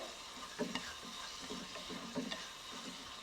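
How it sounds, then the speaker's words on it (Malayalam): Curry with onions is stirred in a pan, the ladle scraping in soft, repeated strokes over a low, steady sizzle. The sound is quiet and close. "അപ്പോൾ എന്താ അത്യാവശ്യം നല്ലതായിട്ടൊന്ന് ഇളക്കി കൊടുക്കുന്നുണ്ട്."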